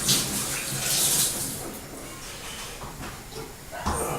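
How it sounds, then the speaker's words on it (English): Running tap water hisses steadily as hands are washed under it in a home kitchen while corned beef hash is made, loud and close with a slight surge toward the end, no talking. "Wash my hands."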